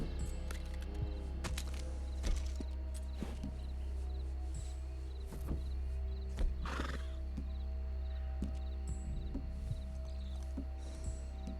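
A horse in Red Dead Redemption Online whinnies and snorts while its hooves clip-clop steadily, close up, over a constant low outdoor game ambience with occasional sharper clicks and thumps.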